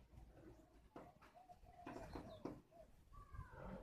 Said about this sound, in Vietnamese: Đây là những chú gà đen, gà đá